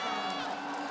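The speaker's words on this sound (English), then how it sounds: "I can hear the crowds are saying no." The crowd at the League of Legends Worlds 2023 finals, held in an esports arena, lets out a loud, sustained collective shout that fills the whole second.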